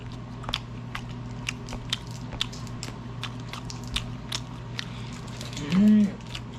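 Snow crab meat being eaten, with faint wet crunching and soft bites repeating close by over a steady low hum, and a short voiced sound near the end.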